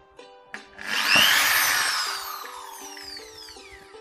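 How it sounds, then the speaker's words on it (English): A high-pitched whirring drilling machine with a toothpick as its bit spins up and grinds steadily through a cardboard box, its pitch slowly falling as it winds down, with a few soft knocks at the start. "even a toothpick can drill through a cardboard box."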